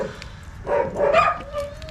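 A Gultair dog gives a short burst of barking and yelping, two or three close, fairly loud calls with a faint whine trailing after.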